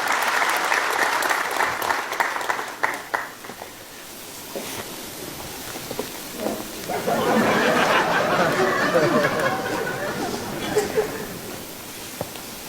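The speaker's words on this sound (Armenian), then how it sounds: "Դե մի հատ էլ ծափարենք ժողովուրդ" An audience breaks into applause at a live performance. Voices and chatter come first, then a swell of clapping from many hands that continues under scattered talk.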